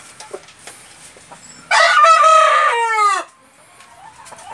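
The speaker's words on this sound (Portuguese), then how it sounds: "Um galo de beleza ímpar." Six-year-old giant Indian rooster, painted variety, crowing once loud and close, a long sustained cock-a-doodle-doo of about a second and a half in an otherwise quiet setting.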